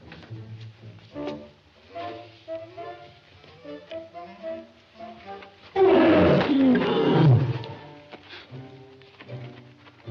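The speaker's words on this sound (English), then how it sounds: "Where's that lion at?" Lion roaring in a 1941 musical comedy, one loud rolling roar bursting out midway after stretches of quieter sound.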